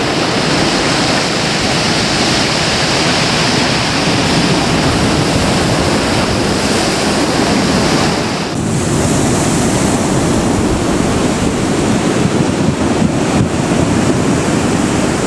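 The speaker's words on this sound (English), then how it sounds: "And these breaking waves." Ocean waves break on the shore of Madeira in November, a loud continuous roar of surf with heavy wind buffeting the microphone and no voices.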